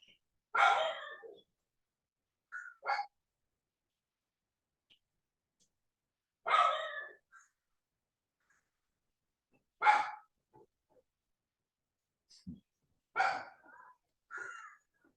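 Small dog barking: short, sharp, faint yaps in scattered bursts with long quiet gaps between them, heard alone in a quiet room.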